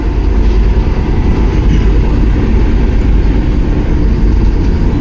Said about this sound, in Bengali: ট্রেন মোটামুটি ভালো স্পিডে দৌড়াচ্ছে।